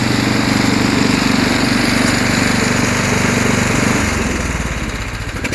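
Snowblower engine idling, a loud, close, steady mechanical drone with a rhythmic chug that drops slightly in pitch and level near the end, no voices.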